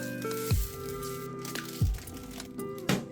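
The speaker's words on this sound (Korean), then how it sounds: "신품은 비닐 떼는 맛이 있습니다." Protective plastic film is peeled off a new Beamo CO2 laser engraving and cutting machine, giving three sharp crackling tears spaced about a second apart over a steady low hum, close and fairly quiet.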